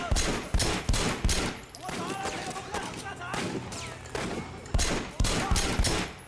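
Gunshots in Sleeping Dogs Definitive Edition: loud, close shots and short volleys firing in irregular clusters, with brief lulls of ambient game sound between the bursts.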